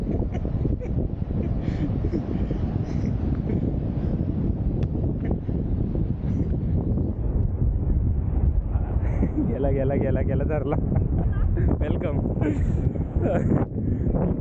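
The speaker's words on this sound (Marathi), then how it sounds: "वाऱ्याचा आवाज आय थिंक तुम्हाला येत असेल." Strong wind roars steadily across the microphone on a sandy Konkan coast where people play football, a constant low rumble and buffeting, with people talking briefly over it.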